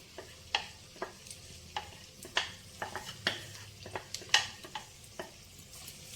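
Grated cucumber goes into a pan of frying onions, bringing a low sizzle under repeated sharp scrapes and taps of a spoon stirring against the metal pan, with no talking.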